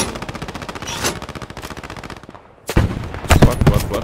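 Rapid, evenly spaced gunfire in the Post Scriptum World War II video game, loud and continuous, then a brief lull followed by heavier, louder bursts of shooting.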